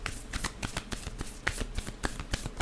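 Tarot cards shuffle in a quick, close run of riffling flicks and soft slaps, a dense rhythmic patter of card handling with no voice over it.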